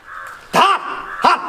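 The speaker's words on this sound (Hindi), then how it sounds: "हट कौआ का" A crow caws twice, each call a harsh nasal burst, the second shorter and about two thirds of a second after the first, both close and loud over a faint background.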